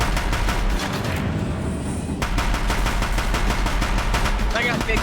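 Big gun firing in the PS5 action game Horizon Zero Dawn, a fast rapid-fire burst of loud repeated shots that pauses briefly, then resumes and runs on steadily amid game combat noise.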